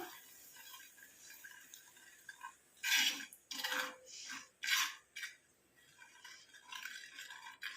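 A spoon stirs black cumin powder and tea powder together in a small metal vessel, giving a few distinct scraping, clinking strokes in the middle amid quiet gaps.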